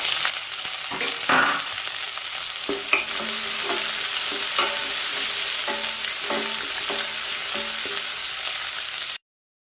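Small shallots halved and frying in oil in a pan, a steady close sizzle with repeated spatula scrapes and stirring knocks, no voices.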